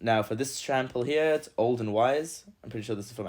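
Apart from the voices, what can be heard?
No everyday noises stand out.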